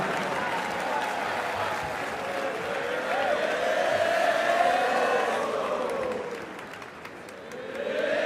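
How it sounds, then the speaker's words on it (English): An audience at an Ohio State marching band Skull Session gives a round of applause, a dense wash of clapping and cheering that swells and then eases slightly near the end. "Another round of applause for our leadership team."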